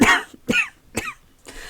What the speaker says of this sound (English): I coughed, hacking from the realm of the earth's breath